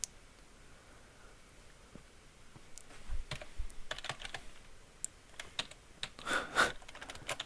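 Someone types a short command on a computer keyboard while playing Minecraft, a quick run of close, crisp key clicks after a quiet start, ending in a couple of firmer taps.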